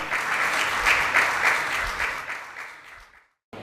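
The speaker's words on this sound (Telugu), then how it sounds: "గట్టిగా చప్పట్లు కొట్టి దేవునికి స్తోత్రం చెల్లిద్దాం." A church congregation clapping loudly in praise, many hands in a dense sustained round of applause that swells and then fades out abruptly into silence.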